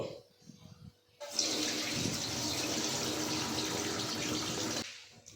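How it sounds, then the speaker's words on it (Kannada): Soaking water poured off rice that has soaked for five hours, for hasi akki thambittu: a steady, close gushing pour of about three and a half seconds. Quiet handling noises come before and after it. "ಅಕ್ಕಿ 5 ಅವರ್ ನೆಂದಾಗಿದೆ. ನಾನಿವಾಗ ನೀರನ್ನ ಚೆಲ್ತೀನಿ."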